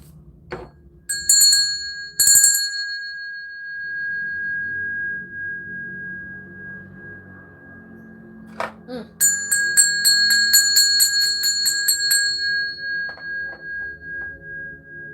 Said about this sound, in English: the bell didn't want to ring for that